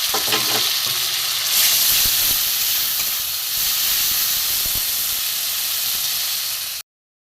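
Ginger garlic paste frying in a pan, giving a loud, dense, hissing sizzle with steam and occasional stirring scrapes, close and continuous before cutting off abruptly near the end.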